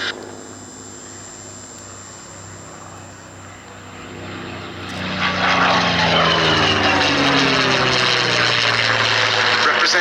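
An Australian-built Commonwealth Aircraft Corporation warplane with a propeller engine drones steadily at first, then swells louder as it passes low overhead at an air show, its roar rising and sweeping in pitch.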